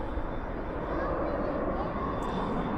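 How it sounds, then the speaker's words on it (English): An American Airlines Airbus A321 jet departs at night from Dallas/Fort Worth International Airport. Its engines make a continuous broadband roar at a distance, steady and moderately loud, with no clear voices over it. "That departure right now on our side is American Airlines Flight 2837 going to Portland and Airbus"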